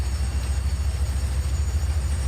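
A train runs steadily in a Farming Simulator 25 mod, a loud continuous low rumble with a constant high whine and no distinct clacks, heard alone.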